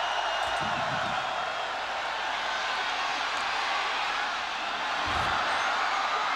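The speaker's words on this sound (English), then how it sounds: "Hall trying to be heard above this roaring crowd." A roaring crowd fills the stands at a 2001 Oklahoma versus North Texas college football game, a steady, dense wall of cheering and noise that holds loud throughout with little letup.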